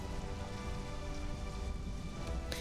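Rain in the game Conan Exiles: a dense, continuous hiss of falling rain with steady patter and no voices, holding at the same level throughout.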